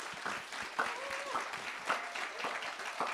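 An audience at a church youth evening claps steadily, a dense patter of many hands sustained across the whole stretch at moderate volume, with a few louder swells.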